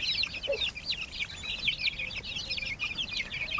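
Aseel chicks pecking at green fodder, with a busy chorus of high, rapid cheeps and soft clucks close by, continuous and overlapping over a low rustling background.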